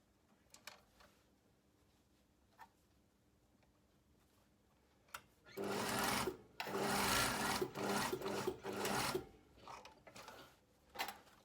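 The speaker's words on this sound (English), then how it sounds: "I'm just going to sew across" A sewing machine stitches across a blazer hem, several loud whirring bursts with short pauses between them after a quiet start of small clicks and handling.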